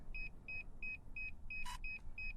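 Evenly spaced, bright electronic beeps come from a DJI Mini 2 drone while it syncs, repeating about three times a second over a muffled car-interior rumble, with a brief burst of noise near the end.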